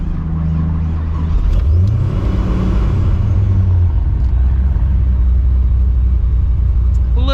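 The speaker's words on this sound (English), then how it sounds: "Little bit of a slower crank, but definitely way better than it was before." A supercharged Pontiac GTO with a new starter cranks slowly for a second or so, then catches into a loud, deep rumbling idle that stays close and steady to the end.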